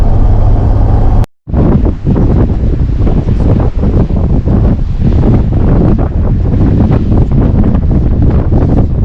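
Loud, steady wind buffeting a microphone during a drive along a coastal road in Tasmania, Australia, with a brief dropout near the start and a continuous roar throughout.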